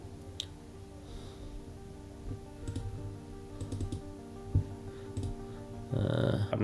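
A national ID card number is entered on a computer keyboard with sparse, light keystroke clicks at an irregular pace, followed by a brief burst of louder noise at the end.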